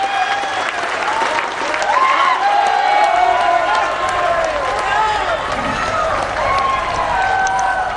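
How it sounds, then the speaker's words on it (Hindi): A large crowd at a public gathering applauds the Prime Minister, sustained loud clapping and cheering that continues throughout while a voice speaks over it. "आप लोगों की तालियां बजती रहे।"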